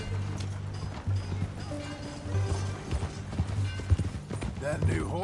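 Rhythmic hoof clip-clop of a horse walking in Red Dead Redemption II, mixed with a low steady hum and scattered game background noises, no clear talk.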